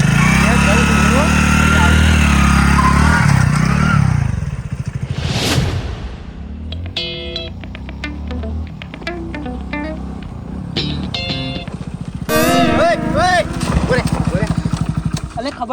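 A motorcycle engine runs close by, loud and rough at first, then dropping to a lower idle as a whoosh passes and voices talk over it intermittently.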